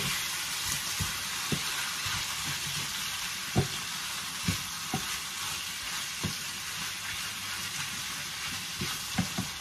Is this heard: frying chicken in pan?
yes